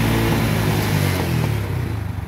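A Honda Wave 100 carbureted motorcycle fitted with a 53 mm piston revs loud and close, its engine held at a steady buzzing drone before easing off into a faster pulsing beat, with no talking.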